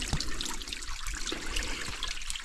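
Water trickling and splashing at a trail water source beside the Pacific Crest Trail, a soft, close, continuous babble with small droplet plinks and no voices.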